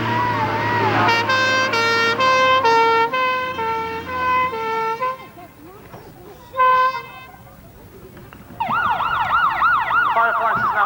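A fire engine arriving at a demonstration at the 1994 Preston Park Fire Engine Rally, its two-tone siren and horn blasts wailing loudly, then a warbling siren rising and falling, with some crowd noise.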